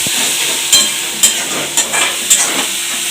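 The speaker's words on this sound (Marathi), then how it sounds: "मिरची आणि लसणाची पेस्ट आपण टाकून घ्यायची ती सुद्धा छानपैकी मिक्स करून घ्यायचं याच्यामध्ये आणि परतून घ्यायची चांगल्या प्रकारे" Chili and garlic paste sautés in a pan for bread cutlets, a loud steady sizzle broken by several rhythmic stirring scrapes and taps, up close.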